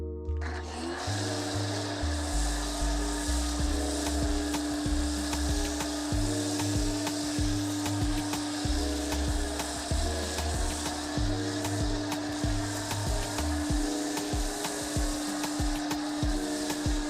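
A foam cannon fitted with a 1.1 mm orifice sprays foam with a continuous loud hiss, over a steady low motor hum that pulses in a regular rhythm, close up and without speech.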